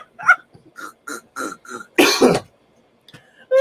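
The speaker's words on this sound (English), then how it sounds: "That was a cough." One sharp, close cough bursts out after a few quieter throat noises, followed by a short, faint rasp.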